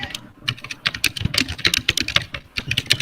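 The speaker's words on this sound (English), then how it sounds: "We gotta love fucking Dave's keyboard." Rapid, close typing on a computer keyboard, a dense run of crisp clacks and thumps with uneven rhythm, loud and alone without speech.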